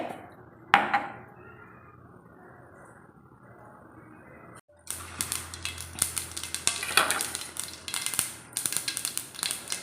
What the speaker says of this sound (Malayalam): നമ്മുടെ കടുക് പൊട്ടുമ്പോഴത്തേക്ക്